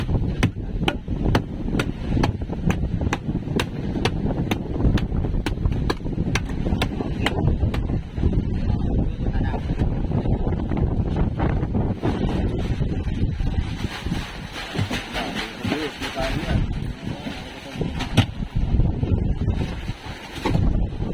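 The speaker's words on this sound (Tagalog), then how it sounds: "Mahangin pa rin." Steady wind buffets the microphone for the whole stretch, a loud constant roar with rapid clicking taps early on.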